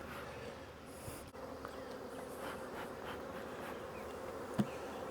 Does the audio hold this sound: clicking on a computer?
no